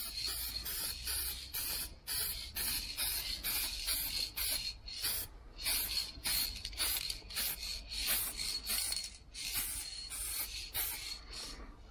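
Rattle can spray paint hissing on a BMW X5 in short, repeated bursts of roughly half a second, a dozen or more in steady rhythm, close and loud with no talking, laying a light dust coat.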